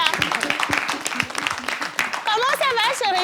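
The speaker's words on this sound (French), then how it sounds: "on applaudit pour lui, là." An audience claps for a person at an event, a brief burst of applause with a voice talking over it and then a higher-pitched voice speaking alone toward the end.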